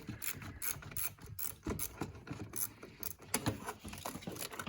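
A ratchet wrench loosens the 10 mm nut on the positive terminal of an Infiniti car battery, giving a steady run of quick, close metallic clicks with no talking.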